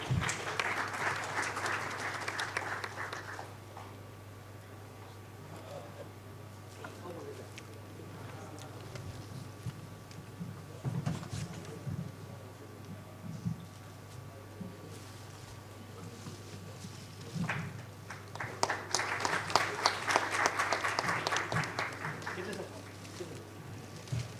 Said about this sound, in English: Have a big round of applause for Sandip sir.